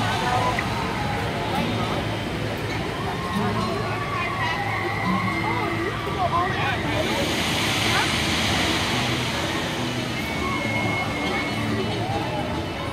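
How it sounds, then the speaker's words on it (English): Water cascading down at a Cedar Point water ride as a boat approaches splashdown, a continuous rushing roar with a louder surge of spray midway, heard nearby under people talking. "You see the big water coming down, that means the boat is on its way."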